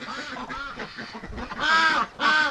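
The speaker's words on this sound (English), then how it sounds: "They're crazy ducks." Domestic ducks quack loudly beside a filling bathtub, a burst of nasal calls overlapping, with two especially loud honking quacks near the end, close by.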